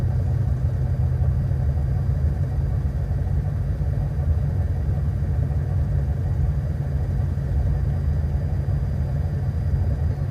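Airbus airliner jet engines running at takeoff power on the runway roll before a rejected takeoff, heard as a loud, steady, low rumbling roar from inside the cockpit that holds unchanged for the whole stretch, with no talk.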